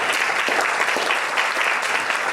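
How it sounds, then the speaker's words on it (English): An audience claps in a steady round of applause for Virginia Martinez at a community gathering, dense, continuous and fairly close, with no talking over it. "So please join me in giving Virginia Martinez a round of applause."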